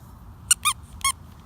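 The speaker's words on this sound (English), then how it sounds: "So I got them this really cute Melt My Heart little squeaky toy." Small squeaky dog toy squeezed three times in quick succession, sharp, close and clear against a quiet background.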